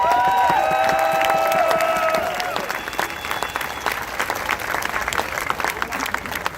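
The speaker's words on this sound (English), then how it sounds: "Let's give them a big round of applause." Crowd applause and cheering at a teachers rally in Tallahassee, many hands clapping with scattered shouts, loud at first over a fading musical tone, then continuing steadily as a broad outdoor crowd.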